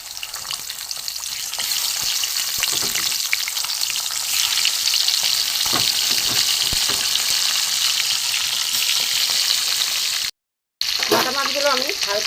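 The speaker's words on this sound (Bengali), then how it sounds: "বাটা মাছগুলো আমি হালকা করে ভেজে নিয়েছি" Bata fish fry in hot oil with a loud, steady, close sizzle that holds throughout, with a brief gap near the end and faint stirring sounds.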